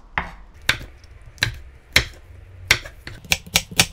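A knife slices Cheongyang chili peppers on a cutting board in about nine crisp, close chops at an uneven pace, with brief quiet gaps between strokes.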